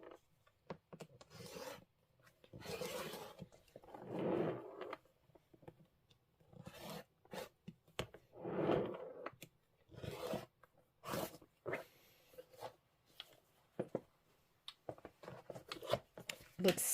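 Scissors cutting through quilting fabric for a seasonal quilt block, a series of close raspy snips and rubbing strokes, interrupted by spoken commentary.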